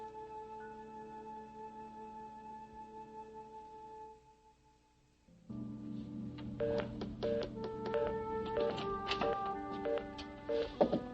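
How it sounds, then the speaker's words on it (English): A telephone is dialed, giving a run of quick tapping button tones and clicks, after a steady tone that cuts off. The sound is close and plays alone without speech. "No, I was just trying to get back on the phone. His line is busy."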